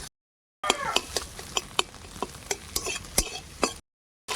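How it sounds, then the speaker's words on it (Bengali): Eggs scrambled into crumbly bits in white oil with salt sizzle in a kadai while a spatula scrapes and taps the pan in a quick, uneven rhythm, close and clear, with no speech. "ডিমটা ঝুড়ো ঝুড়ো করে ভাজা করব।"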